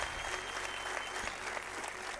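Applause from an audience at a motivational talk, a steady wash of clapping throughout at moderate distance, fairly faint and uniform.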